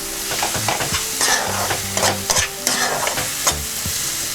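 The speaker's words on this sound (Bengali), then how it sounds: "একটু নেড়ে নিই, গ্যাসের ফ্লেমটা আমরা বাড়িয়ে দিচ্ছি" Turmeric and sugar stirred in a hot pan for a masoor dal tarka, a continuous loud sizzle broken by repeated scraping strokes of a spoon against the pan.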